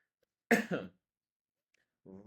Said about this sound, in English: just a quick cough